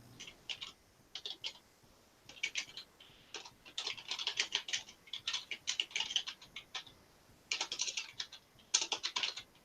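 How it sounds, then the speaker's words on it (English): Rapid clicking keystrokes on a computer keyboard, typed in bursts with short pauses, close up and steady with no voices. "I'm going to type her a hello"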